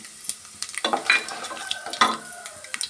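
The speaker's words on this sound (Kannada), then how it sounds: "ಒಂದ್ಸತಿ ಈ ಥರ ಫ್ರೈ ಮಾಡ್ಕೊಳ್ಳೋಣ ಸ್ವಲ್ಪ ಗೋಡಂಬಿ ಪೀಸಸ್ನ ಸೇರಿಸ್ತಾ ಇದ್ದೀನಿ" Cashew pieces frying in oil in a pan with lentils, crisp sizzling under repeated stirring, the spoon scraping and clinking against the metal in short bursts.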